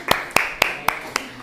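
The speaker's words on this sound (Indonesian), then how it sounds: "beri tepuk tangan dulu untuk kelompok 2." In a housekeeping class, a group claps for group 2, heard as five sharp, evenly spaced claps up close, each with a brief ring after it.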